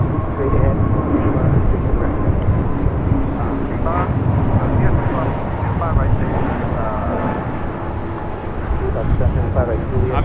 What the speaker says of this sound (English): Avianca 525 taking off to San Salvador on an A320 Neo.